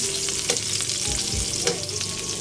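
Ginger sautéing with garlic and onion in hot oil in a pan for sinigang na hito, a loud, dense, continuous sizzle with quick stirring scrapes, close up and with no talking.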